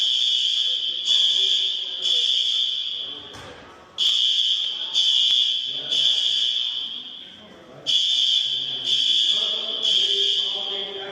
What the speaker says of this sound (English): I just went through the fire alarm being pulled at the museum while I was here.